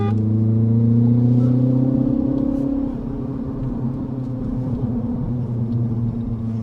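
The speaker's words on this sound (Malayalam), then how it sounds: "നമ്മൾ ഇതിങ്ങനെ ട്വിസ്റ്റ് ചെയ്താലാണ് വാഹനം സ്റ്റാർട്ടാവുന്നത് ആ ഒരു റോർ നമുക്ക് കേൾക്കാനായിട്ട് സാധിക്കും" A last-generation petrol Mini Cooper engine running loud and close, with a strong revving drone that drops to a lower, steadier hum after about three seconds. No voices are heard.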